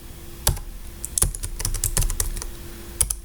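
Typing on a computer keyboard while writing a C program: close, crisp key clicks in irregular bursts with short pauses, no voice.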